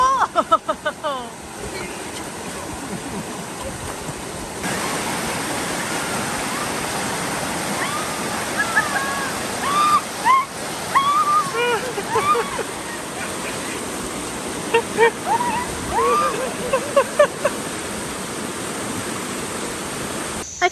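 Water rushes steadily at Seven Wells Waterfall in Langkawi, Malaysia, a loud continuous roar filling the whole stretch, with voices calling and shouting over it in places.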